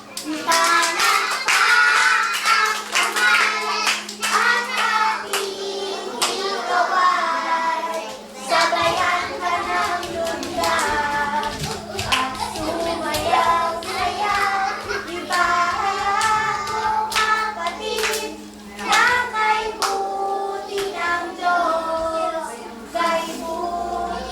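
Children and a congregation at a vacation Bible school clap hands rhythmically, dense and loud, alongside singing voices and a steady hum throughout.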